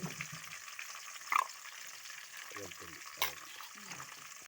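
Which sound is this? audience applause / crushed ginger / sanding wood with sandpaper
crushed ginger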